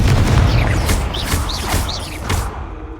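Confringo spell blasts in Hogwarts Legacy, a loud continuous rumbling boom with crackling bursts layered over it, close and heavy throughout.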